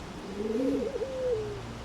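Pigeon in the Eagle Flight VR video game cooing once, a soft warbling coo heard alone and close.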